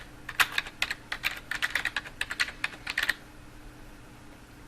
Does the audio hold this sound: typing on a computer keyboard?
yes